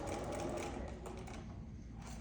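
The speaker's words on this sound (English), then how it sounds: "So I'll sew to the end of that" A sewing machine stitches fabric for a gnome-themed Christmas table runner, its steady rapid needle chatter running continuously and close up, with no talking.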